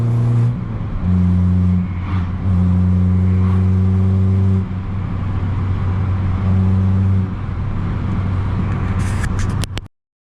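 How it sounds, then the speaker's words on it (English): A 250 bhp Abarth 595 Competizione driving with a leaking, blowing exhaust, a loud droning engine note with shifting low tones and rasping overtones, sustained close up before stopping abruptly. "with a leaking exhaust you're going to lose back pressure and ultimately you'll have poor acceleration and excessive noise"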